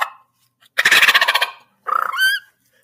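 A turkey gobble imitated by a hunter on a mouth diaphragm call. It comes as a loud, rapid rattling burst followed by a shorter second gobble, with a brief faint note before them and no talking.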